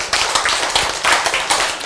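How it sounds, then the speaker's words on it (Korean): A church congregation claps in a loose, uneven patter of sharp hand claps, close and fairly loud, lasting a couple of seconds. "박수 쳐요."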